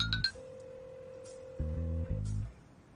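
A phone rings with a returned call: a steady electronic tone holds for about two seconds, overlapped near the end by a brief, louder buzzing burst, heard close and clear.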